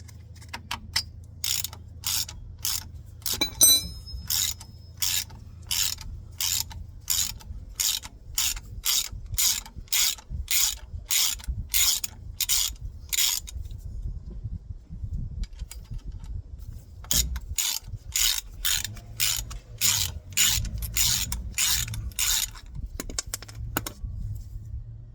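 Ratcheting spanner working on car brake caliper bolts during a front disc and pad replacement: long runs of evenly spaced, crisp clicks close by, pausing once before resuming.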